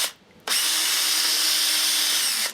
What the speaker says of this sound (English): I've just changed to the Makita drill because there's some slower speeds